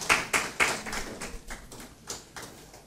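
Applause from an audience at a business leadership event: a handful of distinct, fairly quiet claps in an uneven rhythm rather than a full ovation.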